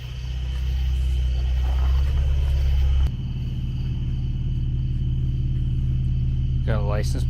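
Infiniti Q50 widebody engine idling with its test pipes removed, a loud, deep steady rumble heard up close that drops a little in level partway through and then holds.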